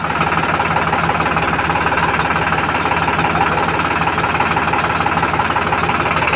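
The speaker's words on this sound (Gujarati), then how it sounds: "જો આવું ટ્રેક્ટર છે" A 35 DI three-cylinder diesel tractor idles with a loud, steady, rhythmic knocking rumble, heard up close and alone without pause.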